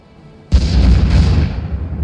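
A heavy ship gun blast from a warship in the video game Stormworks booms loudly after a short quiet lead-in, its rumbling roar sustained and slowly fading.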